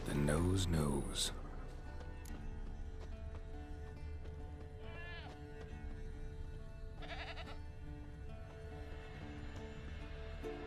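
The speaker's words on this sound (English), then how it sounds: "Can't smell Eskel, but there is the goat" A goat bleats in The Witcher 3 video game, a short wavering call standing out mid-clip over steady game ambience, with a horse-like whinny early on and a second bleat later.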